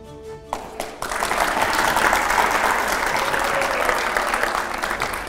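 A studio audience on a television panel show breaks into strong applause after a brief opening tone, with steady dense clapping that holds for several seconds.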